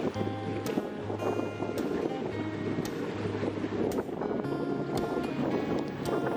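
Boat motoring across open water toward Onrust island in the Thousand Islands, with a steady engine drone, wind buffeting the microphone and water rushing against the hull, loud and continuous throughout.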